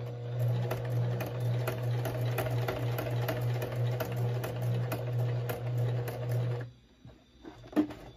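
Sewing machine stitching a label frame on a bag, running in a steady rapid chatter for several seconds before stopping, followed by a few faint handling clicks.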